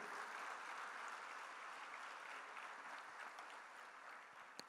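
A church congregation claps in worship, a soft, distant, steady wash of applause that fades slightly toward the end, with no speech over it.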